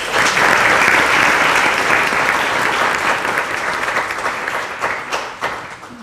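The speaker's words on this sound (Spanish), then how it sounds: "También recibámoslos con un aplauso" Audience at a round-table event on computing gives sustained applause, loud and dense at first, then thinning into scattered claps as it tapers off over about six seconds.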